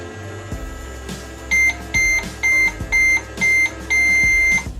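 A Paw Patrol toy microwave gives six short electronic beeps in a steady rhythm, the last held longer, over background music.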